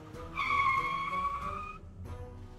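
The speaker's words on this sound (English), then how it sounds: "One day, a very large moving van pulled up with a screech in front of the empty house." A very large moving van pulls up with a long, loud tyre screech that holds for over a second before cutting off, followed by a softer rumble as it settles.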